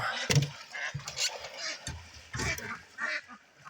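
Ducks quacking on an off-grid homestead in the morning; several short, nasal quacks come in separate bursts close by, with quiet gaps between them.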